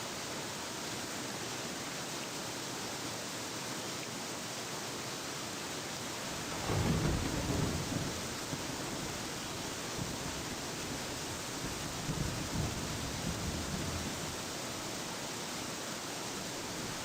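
A thunderstorm in the Escape the Pacific survival video game brings a steady hiss of rain, with a deep roll of thunder swelling midway and a softer rumble later, and no speech.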